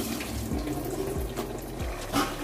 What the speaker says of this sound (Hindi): तो अब हम जितना इसमें पानी ऐड करना है वो मैं आपके सामने पानी ऐड करूँगी